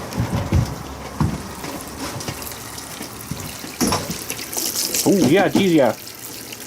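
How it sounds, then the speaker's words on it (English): Hot water runs from the tap of a tankless water heater in a travel trailer, a steady rushing splash with sputtering bursts, while someone talks and reacts over it. "let's see if we got hot water"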